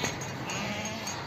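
A young lamb rejected by its mother bleats once, close and fairly clear, in a farm setting with sheep.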